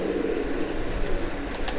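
A pigeon cooing inside a pigeon loft in Pakistan, soft low throaty coos repeating under a faint background hum, with no talking.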